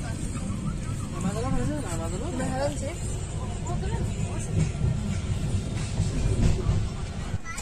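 A train rumbles steadily along the rails near Malda Town station with a constant low roar and rattle, while people talk nearby over the noise.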